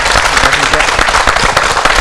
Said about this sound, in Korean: 함께해 주세요 주인공들을 박수로 모시겠습니다